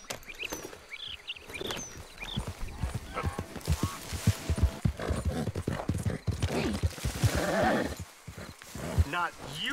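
Horse hooves clip-clop steadily in the video game Red Dead Redemption 2, a rapid rhythmic patter running through the whole stretch while characters talk over it.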